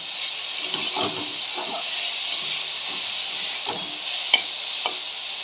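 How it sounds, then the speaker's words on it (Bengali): Spoon stirring badam posto lal shak, red amaranth greens with peanut and poppy seed paste, in a pan after raw mustard oil is sprinkled on, under a steady close hiss and sizzle with a few soft stir strokes. "শেষ পাতে আমি অল্প করে একটু কাঁচা সর্ষের তেল ওপর থেকে ছড়িয়ে দেব, দিয়ে একটু নাড়াচাড়া করে নামিয়ে দেব।"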